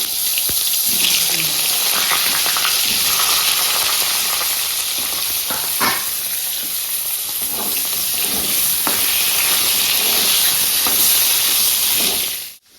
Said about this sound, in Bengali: বেগুনগুলোকে ভেজে নেবো